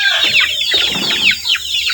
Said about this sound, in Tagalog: buwan-buwan tayo nagbibinta dito mga kabukid sa ating mga alagang manok